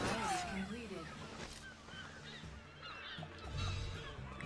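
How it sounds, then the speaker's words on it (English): Seagulls calling in the Assassin's Creed 4 multiplayer game, faint scattered squawks over a quiet wash of game ambience and low background noise. "I'm just hearing tons and tons of seagulls."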